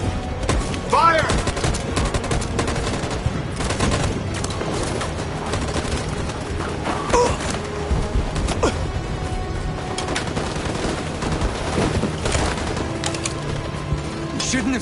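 Rapid gunfire bursts and overlapping shots in the video game Detroit: Become Human, loud and continuous with a dense fusillade throughout.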